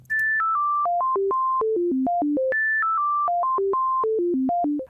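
An Arturia Pigments synth sequence of randomized 16th notes, with clean, bright tones stepping up and down in a steady rhythm. The melodic phrase repeats twice and plays loud and alone.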